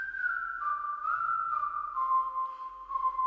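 Sustained whistled melody bathed in a large Abbey Road style reverb, the gliding tone steady and fairly quiet, with a soft hall-like tail and no talking.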